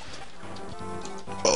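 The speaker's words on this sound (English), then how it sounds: "Oh, man, sorry, I'm burping." A short burp rumbles low beneath game music, followed by a brief louder burst at the end.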